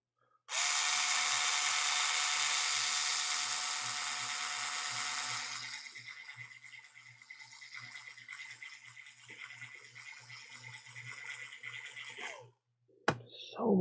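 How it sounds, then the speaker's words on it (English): A drill press bores through material with a loud, whining high-pitched drone that starts abruptly, eases into a lower rattling grind partway through, then cuts off, followed by a brief clunk. "So much easier with the drill press."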